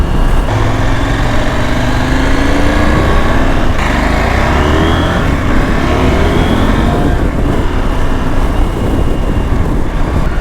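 A KTM 890 Adventure R motorcycle engine drones and shifts pitch while riding, loud and close with heavy wind rush over the microphone throughout.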